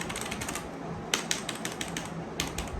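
Typing on a Kreo mechanical keyboard with RGB lighting, a run of crisp key clicks in quick bursts followed by a pause and several separate, sharper keystrokes, close and clear with no talking.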